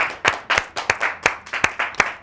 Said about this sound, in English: Clap it up for Jake, everybody.